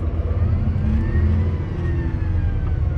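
Caterpillar D6T dozer engine revving up, a steady heavy low-pitched roar with a slowly rising tone, close and loud throughout with no talk.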